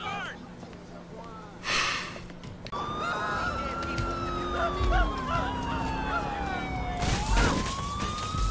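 Emergency siren from an ambulance in GTA 4, a steady wailing tone sweeping slowly up and down across several seconds, heard under a voice and game sounds.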